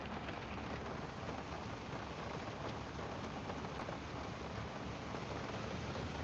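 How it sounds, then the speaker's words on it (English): Heavy rain pours down outdoors in Mississippi, a dense, even hiss that fills the whole stretch with no letup and no voices. "This how much it's raining out here."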